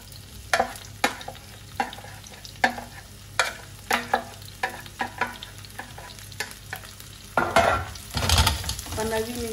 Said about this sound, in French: je vais passer les poivrons et les échalotes à la poêle